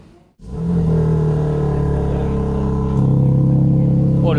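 A new BMW M3 or M4 engine runs at a steady, loud idle right after an abrupt start, with a deep low rumble and a small rise in pitch and level near the end.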